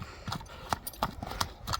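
A horse's hooves clip-clop on hard ground in a steady walking rhythm, about half a dozen sharp, close strikes.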